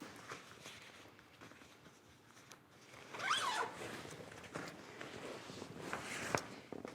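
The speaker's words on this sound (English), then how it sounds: "I'm unzipping it so I can get to those bungees." Zipper on a Tern GSD cargo bike storm shield rain cover being pulled open, a quick raspy zip burst near the middle followed by another shorter zip, close by with light handling rustle.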